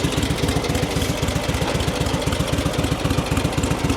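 An old Sokół 1000 motorcycle engine, restored after 67 years, idles up close, a loud, fast, uneven thumping putter that keeps a steady rhythm throughout.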